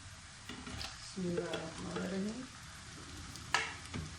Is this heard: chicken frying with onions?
yes